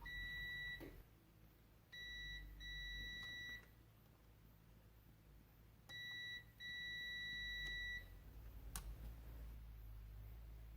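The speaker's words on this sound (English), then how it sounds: "I'm just gonna use my trusty multimeter once again in the noise position, the continuity position." Multimeter set to continuity, testing fan fuses in a Mk5 Jetta fuse box: several clear electronic beeps, each a second or two long with short gaps, near and distinct over a quiet background.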